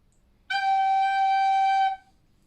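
A single clear, steady recorder note sounds for about a second and a half, then stops, with near silence before and after.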